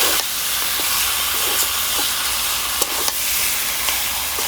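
Chicken meat sizzles loudly in a hot pan with oil and spices, a constant close hiss broken by occasional scrapes and clinks as it is stirred, with no voices.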